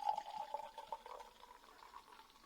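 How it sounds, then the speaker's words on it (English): Unfiltered, bottle-conditioned Ross-on-Wye perry made with wild yeast pours from a bottle into a glass, a soft gurgling splash that is strongest at first and then tapers to a quieter trickle. "Pour it out."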